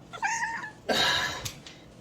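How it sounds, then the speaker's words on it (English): A cat gives one clear, fairly close meow, followed by a brief burst of rustling noise. "Cat."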